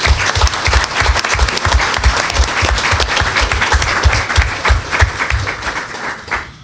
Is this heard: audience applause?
yes